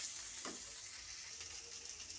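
Salted potatoes stir-fry in oil with a faint, steady sizzle and one soft scrape of a spatula partway through.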